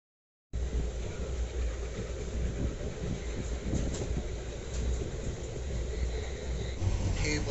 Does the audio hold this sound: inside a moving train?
yes